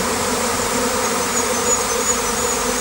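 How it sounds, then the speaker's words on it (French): A honeybee swarm arrives and settles at a Kenyan top-bar trap hive whose interior was rubbed with lemongrass, producing a loud, dense, continuous buzz of many bees close by. "l'essaim vient d'arriver, il se pose"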